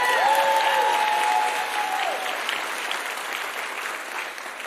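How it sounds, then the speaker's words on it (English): Crowd applause at a political town hall meeting in Wisconsin, sustained loud clapping filling the hall with a few cheers early on, gradually tapering off. "Let's give her a round of applause for being there."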